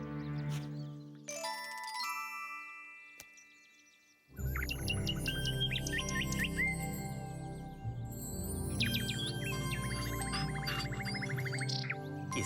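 In a cartoon, a young nightingale practises its song as its father teaches it, with bright chirping and tinkling bird phrases over a busy orchestral score that swells after a quiet opening.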